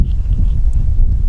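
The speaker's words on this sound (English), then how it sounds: "Sorry about the wind there." Wind buffeting a microphone outdoors in a garden, a loud low rumbling roar that fills the short moment without pause.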